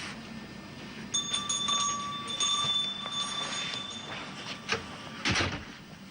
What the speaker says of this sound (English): Please ring bell for service.